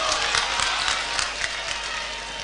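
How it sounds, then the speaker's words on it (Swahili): A crowd at a Kenyan funeral applauds a speaker, a fairly soft, even patter of many hands clapping at once. "makofi kwake tena"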